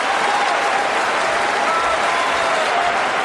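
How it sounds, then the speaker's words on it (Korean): A concert hall audience erupts in loud, dense applause and cheering after a piano performance of Rachmaninoff, a steady roar of clapping throughout. "그의 엄청난 연주가 끝나고 장내는 환호와 박수 갈채 소리로 가득 찹니다."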